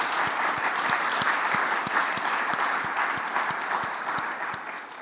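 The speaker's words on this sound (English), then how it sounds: "I would like to give a big round of applause for these guys as well" A conference crowd gives a big round of applause at the closing of the Third RECLAIM Network Plus Conference. The clapping is loud and sustained, with a regular low thump pulsing beneath it, and eases slightly toward the end.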